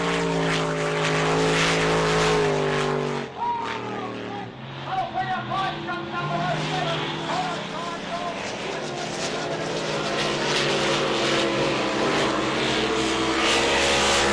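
A race car accelerates hard down the back straight of a circuit, its engine a loud, rising harmonic drone that holds throughout under steady commentary.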